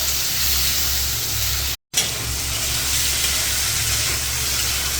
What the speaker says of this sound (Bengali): ঝিঙে আলুর সঙ্গে মশলাগুলো ভালো করে নেড়ে ভালো করে কষবো